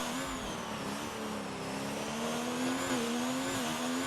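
A race car in a sim racing game accelerates hard out of the final chicane and blasts toward turn one, its engine a steady high-pitched drone that climbs, briefly dips with a gear change, then pulls on, alone and continuous.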